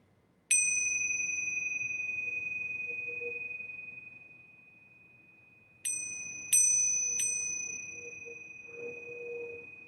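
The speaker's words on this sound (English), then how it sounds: "And even noticing how the sound of the bells change." A small bell rings once with a long, fading tone, then three more strikes in quick succession ring out and slowly decay.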